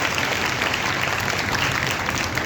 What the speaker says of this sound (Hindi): तो मैं चाहूँगा बच्चों से उनके लिए एक बार तालियां बजाकर अभिनंदन करें